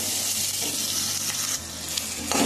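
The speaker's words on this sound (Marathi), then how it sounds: "ते मोहरी आपण कांद्यामध्ये टाकून देऊ। छान असं परतून घ्यायचं।" Mustard seeds and onion sautéing in a pan for a Marathi chivdichi bhaji, giving a steady close sizzle with light stirring scrapes throughout, and no voices.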